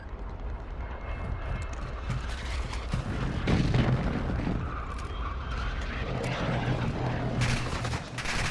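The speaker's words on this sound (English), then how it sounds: "precision airstrike" Airstrike explosions in a military video game: broad rumbling booms and heavy low-end blasts roll continuously over a dense battlefield din for several seconds, loud and close.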